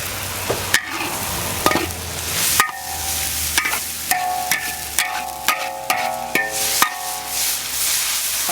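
Beef stir-fried in a wok, with a steady oil sizzle and repeated sharp scrapes and clanks of the spatula against the pan in an irregular rhythm.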